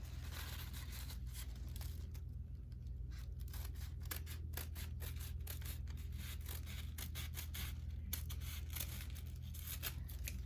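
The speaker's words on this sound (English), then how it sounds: "we're just going to cut it all off so we can keep it as" Scissors cut away excess paper in an art project, a quick run of crisp snipping and tearing strokes close to the microphone over a low steady background hum.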